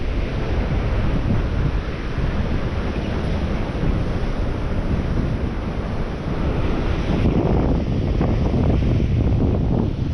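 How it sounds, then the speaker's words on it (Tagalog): Big waves churn and rush without pause, a loud broad roar of surf with gusty wind noise over it. "Laki ng alon."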